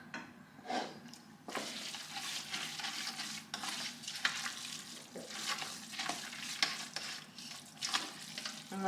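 Stuffed pepper filling stirred in a hot pan, a soft sizzle under repeated scraping spoon strokes, close and fairly quiet, with a brief lull at the start before steady stirring.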